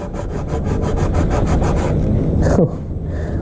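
A keris blade sawing back and forth across a bamboo stalk in quick regular strokes, loud and close, ending abruptly after a couple of seconds.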